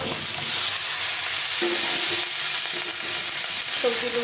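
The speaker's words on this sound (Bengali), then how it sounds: "এখন আমি দিয়ে দেবো যে সবজিগুলো কেটে রেখেছিলাম," Chopped vegetables, cooked as a ridge gourd and pointed gourd dish, stir-fry in a pan with a loud continuous sizzle and a few clinking strokes of a spatula, close and steady.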